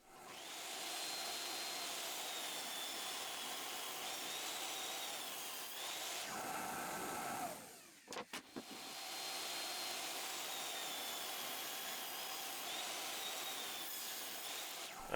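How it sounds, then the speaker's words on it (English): A table saw makes an angle cut in a 2x10 board: a steady high whine running throughout, dipping briefly as the blade bites and a few clunks sound midway before the drone resumes. "The seat needs an angle, and we're gonna do that on the table saw."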